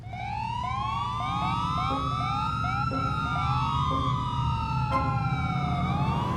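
Several police car sirens in a GTA 4 race wail and yelp over one another with rapid rising sweeps, layered over a low engine rumble, loud and continuous throughout.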